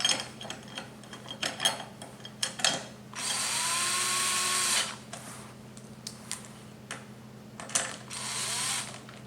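Power driver running in the factory 8mm hex head bolts on a fender eliminator kit for a 2025 Yamaha MT-07 motorcycle, a close two-second whirring burst among clicks and rattling handling, then a shorter spin near the end.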